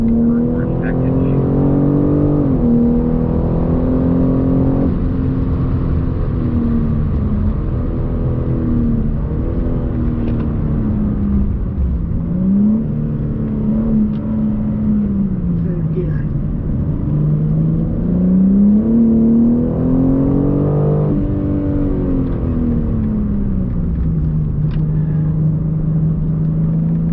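A BMW car on a race track, its engine droning and rising and falling in pitch as it accelerates and eases through corners, continuous and fairly close throughout.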